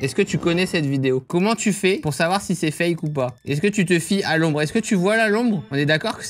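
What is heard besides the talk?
No distinct noise like a dog, phone or traffic.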